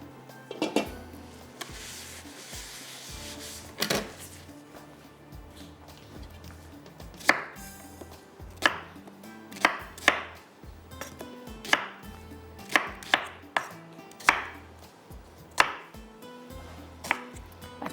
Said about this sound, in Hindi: और प्याज को चॉपर में डालते हैं